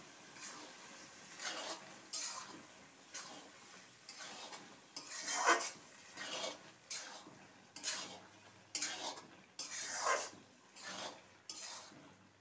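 Ghugni, a curry of boiled peas, being stirred in a pot: a metal spoon scrapes and knocks against the vessel in a steady series of strokes, each a second or so apart, fairly close, with no voices.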